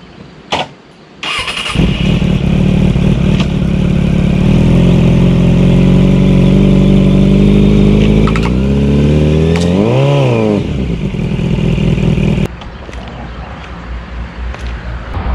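A motorbike engine starts and revs hard while pulling a paraglider line knotted to a tree, a loud, steady mid-pitched roar with a rising and falling rev surge before it cuts back to idle.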